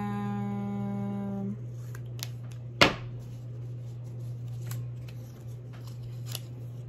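Scissors make a single crisp snip through a sheet of colored paper, brief and close, following a steady low hum that starts with a fading tone, with faint rustling of paper afterward.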